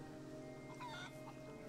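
A chicken in the zombie survival game DayZ clucks softly a few times in a short, faint burst over low steady background hum.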